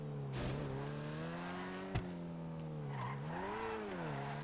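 Deveste 8 supercar in GTA V weaving at speed, its engine a steady loud drone with pitch rising and falling through each swerve, plus a short sharp knock partway through.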